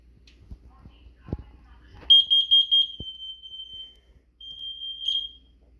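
A hard-wired combination smoke and carbon monoxide detector runs its test alerts: loud, steady high electronic tones sound twice, a longer burst then a shorter one, after some faint handling knocks.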